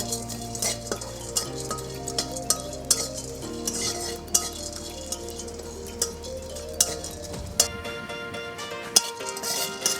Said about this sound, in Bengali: এইগুলোকে একসাথে কাঠখোলায় ভেজে নেবো